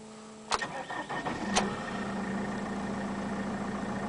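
A Mercedes Sprinter 411 van cranks briefly, fires up, then settles into a steady idle, heard close and fairly quiet with no talking.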